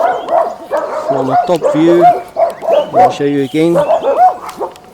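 Dogs barking in a bushy wilderness area in Nelspruit, South Africa, several short bark bursts at moderate distance mixed in with someone talking.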